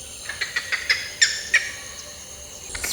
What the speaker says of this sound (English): there's so many amazing birds everywhere